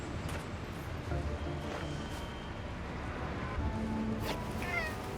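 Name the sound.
cat meowing in a video game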